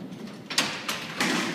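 An Alcatraz prison cell door is pulled open by a lever mechanism, giving a few loud metallic clunks and a grinding slide in separate bursts, heard nearby without talk.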